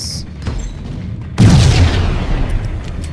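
Gunfire and a heavy explosion from the video game Max Payne, with scattered shots and then a sudden loud boom that rumbles away into a noisy tail.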